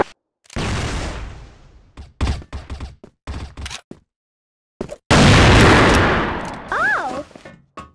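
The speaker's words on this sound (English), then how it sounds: "Flash grenade." Flash grenade blasts and gunfire in a video game: loud close bursts with short sharp pops between them, then a big explosion followed by a high ringing whine as it fades.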